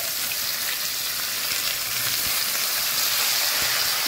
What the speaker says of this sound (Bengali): তো ফ্রেন্ডস, এবার আমগুলোকে মা ছেড়ে দিল